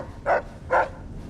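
A dog in the Fallout video game barks twice in quick succession, close and clear against a low background hum.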